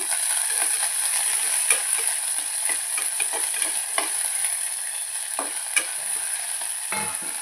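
Chopped ingredients fry loudly in a pan and are stirred with a utensil, a constant close sizzle broken by frequent scraping and tapping strokes.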